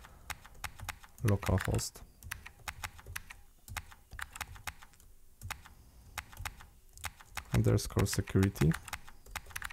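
Rapid clicking on a computer keyboard comes in irregular bursts, close and crisp, while a person speaks over parts of the typing.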